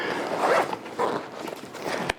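A zipper on a Shimoda Action X50 camera bag is pulled in one long, close rasping run that ends with a sharp click, with no talking.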